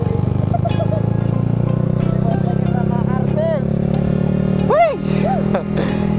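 Yamaha R15 motorcycle being ridden, a steady engine drone underneath with rider chatter over it, loud and close throughout with a brief swell near the end.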